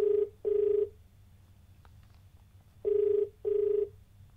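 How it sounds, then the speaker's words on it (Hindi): Telephone ringback tone while a call is placed to a caller on a phone-in TV show, four clear evenly spaced rings in two pairs, steady and moderately loud with no talk over them. "फोन लगाते हैं अपने अगले कॉलर को"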